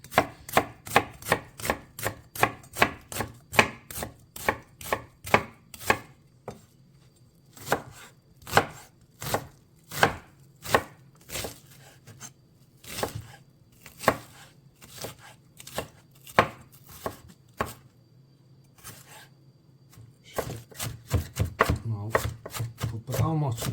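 A knife chops onion on a cutting board while it is prepared for a potato omelette. The sharp, close cuts come in fast bursts, then sparser strokes, then a dense flurry at the end.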